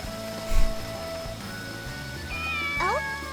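A cat meows a few times, rising and falling calls late in the short stretch, close by over a soft background with a brief thump early on.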